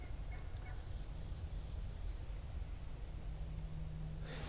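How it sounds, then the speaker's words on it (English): Wild turkey gobblers gobble in spring woods, faint and distant, over a low rumble of background noise. "The gobblers are still gobbling okay"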